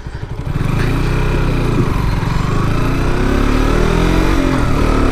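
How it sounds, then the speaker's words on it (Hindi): A superbike's engine starts up and settles into a loud, steady exhaust note close by, a rich low rumble that holds continuously for several seconds with no speech. "आपको एक छोटा सा एग्जॉस्ट नोट दे देता हूँ इसका, काफ़ी खूबसूरत है।"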